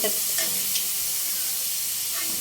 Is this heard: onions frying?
yes